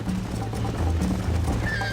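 Horse hooves clatter at a gallop with a whinny in the Western video game Red Dead Redemption, a steady loud rhythm mixed with game ambience and no talk.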